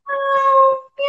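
A singer imitates a cat's meow as a vocal exercise: one long, bright, sustained nasal "meow" tone, then the start of a second, clear and close with no background.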